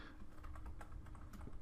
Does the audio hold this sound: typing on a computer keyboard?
yes